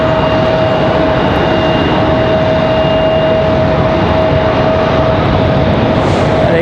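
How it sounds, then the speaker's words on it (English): JetBlue jet airliner engines idling loudly on the ground at Raleigh-Durham airport, a steady, continuous roar with a sustained whine, close and uninterrupted throughout, no voices. "There's JetBlue sitting out there. Man, they're making a whole lot of noise over there."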